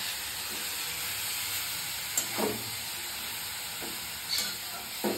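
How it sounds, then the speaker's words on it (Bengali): Carrots fry in hot oil with a continuous bright sizzling hiss, a few louder spits and stirring scrapes rising now and then over the steady crackle. "আমি গাজরটা সবটা দিয়ে দিলাম ওর মধ্যে। এবার আমি ভালো করে ফ্রাই করবো।"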